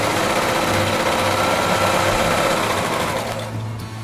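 A sewing machine runs steadily, stitching fabric pieces for a segmented pouf, a loud, even mechanical whir that eases off near the end.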